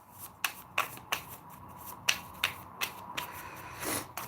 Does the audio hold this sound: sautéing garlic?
no